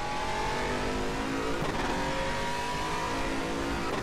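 Aquila CR1 prototype sports car engine in the RaceRoom Racing Experience sim, a steady high-revving drone with a slight pitch shift midway, loud and continuous throughout.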